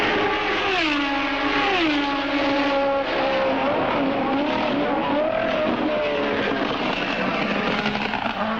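Formula 1 race cars roar past during practice at Zandvoort for the Dutch Grand Prix, with loud engines rising and falling in pitch as they sweep by close together, the whine shifting continuously with no voices.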